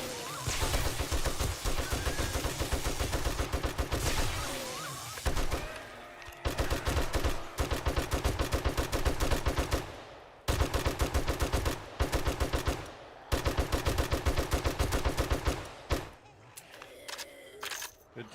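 Rapid automatic gunfire from the survival video game 7 Days to Die plays in long, loud bursts with brief gaps between them. A voice talks over parts of the shooting.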